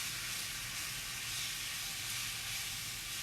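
Round steak fries in a pan with a dense, continuous hiss of sizzling fat and moisture, steady and fairly quiet throughout, no voices present.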